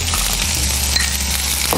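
Shallot frying in a teaspoon of hot coconut oil in a pan makes a close, even, crackling sizzle throughout, with one faint clink near the middle.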